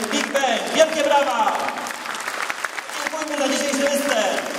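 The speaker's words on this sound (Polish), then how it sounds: "Wielkie brawa!" Applause for a brass band and majorettes at a New Year concert, a dense, sustained clapping from a hall crowd, with a voice speaking over it throughout.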